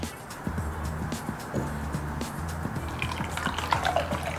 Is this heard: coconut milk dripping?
yes